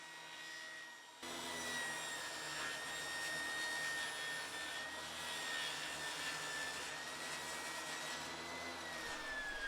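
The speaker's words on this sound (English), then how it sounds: "I had to flip the 2x4 over and make a second pass to make the complete cut." A table saw cuts through a 2x4 wood board, a loud continuous roar with a high whining tone that holds steady for several seconds after a brief quieter start.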